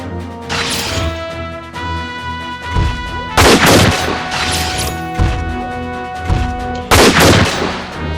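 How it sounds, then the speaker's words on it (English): Shotgun blasts from the Front Mission 4 video game, several loud booming shots spaced a few seconds apart over steady game music, with no talking. "Shotgun."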